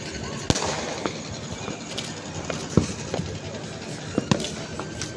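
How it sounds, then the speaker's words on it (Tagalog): New Year's Eve fireworks on a smoky mountainside burst in scattered sharp bangs and pops over a hissing, crackling background, some close and loud, others fainter and farther off. "Wow! Fireworks."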